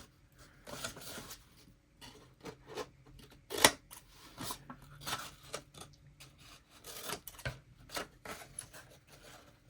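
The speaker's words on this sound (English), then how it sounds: "We're going to angle cut each one of the covers and pages just to take away some of that paper." Scissors angle-cutting the paper covers and pages of a no-sew junk journal mini album: a series of short, crisp snips and rasping cuts at close range, irregular in rhythm, with no talking.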